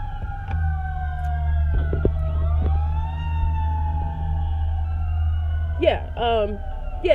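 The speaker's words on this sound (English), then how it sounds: "See, sirens." A wailing siren held on a long steady rise and fall, with a low engine rumble underneath and a voice breaking in near the end.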